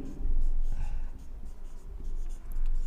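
Pen scratching across paper while a geometry problem is worked out, a steady close rustling scrawl that continues through the whole stretch with no break.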